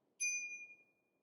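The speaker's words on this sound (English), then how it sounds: "The bike also comes with a bell." A single bright ding from the handlebar bell of an FD Freedare Saiga fat tire ebike, a clear metallic ring that fades away over about half a second in otherwise quiet surroundings.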